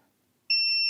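A multimeter continuity tester gives a steady electronic beep that starts abruptly and holds as a pure, high tone, loud and close, after a near-silent moment.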